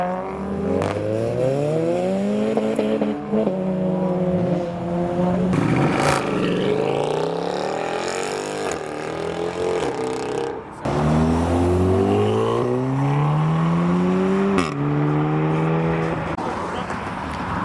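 Loud cars rev and accelerate away one after another as they leave a car show, engines rising and falling in pitch through repeated gear changes, close and prominent, with voices mixed in.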